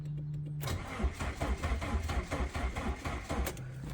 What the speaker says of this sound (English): Give her a good turn over